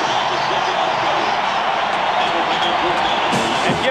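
Dense, roaring stadium crowd at a 1998 Nebraska home football game against Texas, a steady loud wash of cheering and noise with scattered shouts rising over it throughout.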